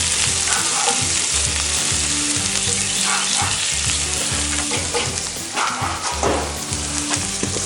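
Food sizzles steadily in a cast iron skillet while shrimp, onions and garlic cook for a low-carb dish, a loud continuous frying hiss with occasional stirring scrapes and no talking.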